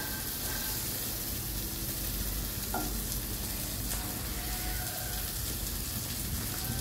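Beef fries in a pan with a dense, even sizzle like steady rain, holding at a constant level with occasional faint stirring clicks and no voices.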